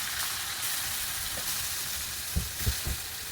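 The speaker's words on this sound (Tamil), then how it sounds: "இப்போ சிக்கனை வந்து நல்லா வதக்கி எடுத்துக்கலாம்" Marinated chicken sizzles steadily in butter in a pan, a bright continuous frying hiss, with a few soft utensil knocks near the end.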